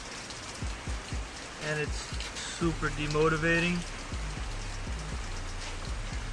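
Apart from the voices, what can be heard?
rain falling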